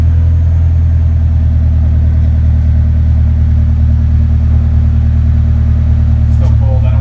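A Nissan Silvia with a modified exhaust runs close by at a loud, steady idle, a deep throbbing rumble that holds evenly without revving.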